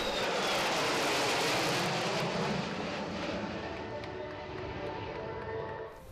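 Fighter jets including F-16s, F-4 Phantoms and F-5 Freedom Fighters fly at a Turkish Air Force centenary airshow in Izmir, a loud continuous jet roar that slowly eases while staying strong.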